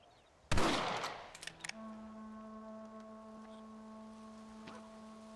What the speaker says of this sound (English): Why are you shooting your gun at the corn?